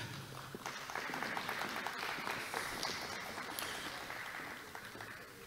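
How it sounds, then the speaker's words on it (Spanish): Audience at a conference gives a steady round of applause for a congresswoman, dense clapping rising quickly and holding evenly for several seconds before starting to fade, with no talk over it. "a quien tributamos un fuerte aplauso."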